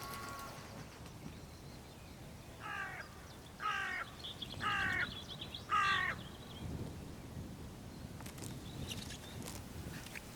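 A hooded crow near a hedgerow gives four harsh, evenly spaced caws, loud and fairly close, over a low outdoor rumble with faint rustling afterwards.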